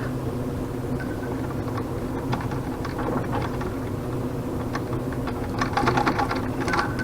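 A Singer treadle sewing machine stitches steadily, its rhythmic mechanical whir and clatter running continuously, close and moderately loud, with a slightly busier patch of ticking near the end.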